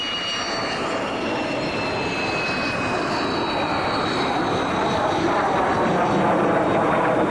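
An F-16 fighter jet flying, a single-engine fly-by-wire aircraft, heard as a loud, steady broadband roar of jet noise that holds for the whole stretch with a slight swell toward the end.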